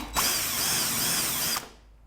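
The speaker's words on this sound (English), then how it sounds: "we're going to take the countersink bit, I'm going to put that in, and I'm going to drill 2 holes." A drill fitted with a countersink bit whirs loudly for about one and a half seconds in one continuous burst, then cuts off and winds down.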